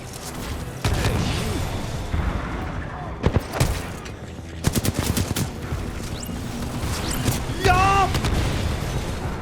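Bombs burst and automatic gunfire rattles during a Titanfall 2 match, dense rapid shots and booms running throughout with brief sharper blasts, while someone talks over the combat.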